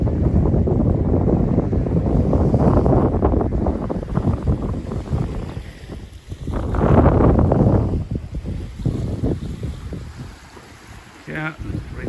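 Strong wind at Punsand Bay beach on Cape York buffeting the microphone in loud rumbling gusts, easing briefly then surging again, with surf faintly beneath.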